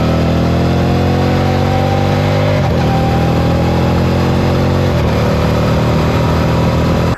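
A Kawasaki ZX6R motorcycle engine drones steadily during a ride, loud and constant with slight shifts in pitch as the revs change, with heavy wind rumble and no talk.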